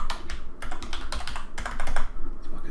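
Quick, close keystrokes clatter on a computer keyboard in irregular bursts, loud and crisp, with no speech over them.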